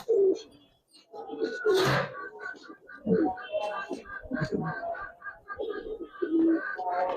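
Giribaz pigeons in a loft coo repeatedly nearby in rhythmic, throaty phrases, with a brief flutter of wings and a few softer calls in between.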